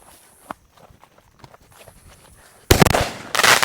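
A firework ball shell detonates almost immediately after being lit outdoors, a sudden loud close blast followed by a brief crackling burst after quiet faint rustling and footsteps.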